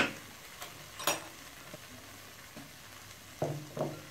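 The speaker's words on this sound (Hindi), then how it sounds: "अब हम इसमें चिकन डालेंगे एक एक करके" Chicken pieces go one by one into fried masala in a pan, each bringing a faint sizzle and a soft tap or clink over a low frying hiss. No one speaks.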